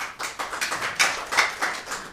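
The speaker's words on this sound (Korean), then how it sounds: "뜨거운 박수 부탁드립니다" An audience applauds in a lecture hall to welcome a history forum lecturer, a brief burst of fairly close, irregular clapping with no talk over it.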